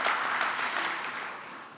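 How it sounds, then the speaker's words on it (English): Audience applause at an aviation conference of civil aviation directors general, welcoming a panel: a steady, dense round of clapping that holds throughout and slowly fades toward the end, with no talking over it. "a big round of applause for our panelists"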